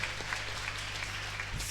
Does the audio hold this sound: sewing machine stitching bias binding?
no